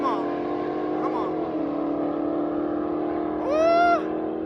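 A C8 Corvette and a Dodge Challenger accelerate hard in a quarter-mile drag race, a loud sustained engine drone with rising gear pulls and a sharp higher whine near the end.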